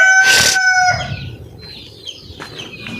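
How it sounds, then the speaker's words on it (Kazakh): A single loud rooster crow opens, followed by quieter clucking and rustling from nearby chickens. "Мына әтешім жұмыс істеп айғайлап тұр."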